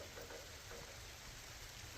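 Rain falls outdoors during assembly of a Woodland Mills HM130Max sawmill track, a faint, continuous hiss of drops with no talking.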